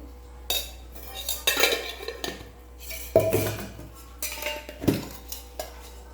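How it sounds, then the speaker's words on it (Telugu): A spoon scrapes and clinks against a metal bowl while spices are mixed into masala borugulu puffed rice, in several bursts of stirring with short pauses between, close and fairly loud, no talking. "కొద్దిగా కారం పొడి బాగా కలుపుకోవాలి"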